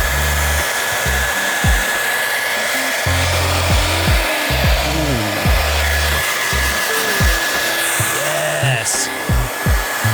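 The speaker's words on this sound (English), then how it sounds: "if you're using a hair dryer on hot, on high, about this far away, about 2 inches away from the foot pad" A hair dryer on its hot, high setting blows steadily about two inches from a Onewheel foot pad, a loud continuous whine and rush close by, with irregular thumps and scraping handling noises layered over it.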